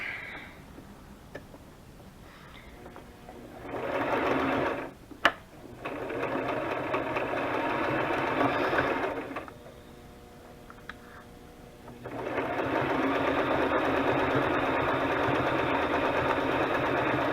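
A sewing machine runs in steady whirring bursts, stopping and restarting several times, with brief ticks and clicks in the pauses between runs.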